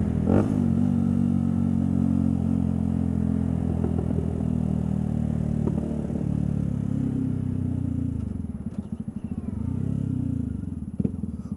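A motorcycle engine while riding, a close, continuous low rumble with rising and falling revs and faint clatter, loud and alone without talking.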